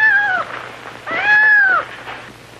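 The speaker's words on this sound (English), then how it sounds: "we can hear the kitten" A kitten meows twice, each cry a clear rising-then-falling call, close and fairly loud, with a brief quiet gap between them and no talking.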